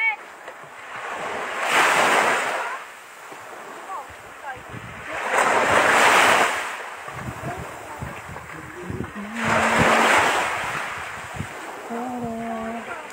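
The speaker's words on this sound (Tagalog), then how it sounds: "High tide yan guys, malaki yung dagat." Large high-tide ocean waves break on a beach shore in Balud, Masbate, three big crashing surges arriving a few seconds apart, each rising and then fading, with wind noise and a voice speaking between them.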